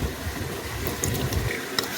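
Water trickles and splashes steadily into a homemade natural hair dye mixture in a bowl, a continuous close pouring sound with no talk.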